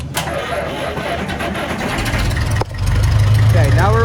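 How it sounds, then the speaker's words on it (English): An IH Farmall 400 gas-start diesel tractor fires up and settles into a steady running rumble on gasoline, with a low engine drone that grows louder after a brief break midway and a voice speaking over it. "you just turn the key"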